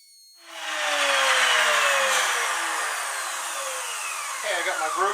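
A power tool cuts grooves into wooden shelf boards for a teacup shelf, a loud steady whining cut that starts abruptly after a quiet moment and holds for several seconds, with a slight change in pitch near the end.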